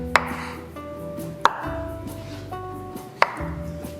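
Peeled hard-boiled eggs being sliced in half on a board, three sharp knife taps spaced about a second and a half apart, each followed by a ringing tonal hum, close and clear with no talking.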